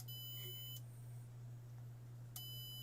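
During a Nintendo Switch board repair, a multimeter continuity tester beeps twice when a capacitor is touched, two short high tones separated by a pause over a steady low mains hum, with no talk.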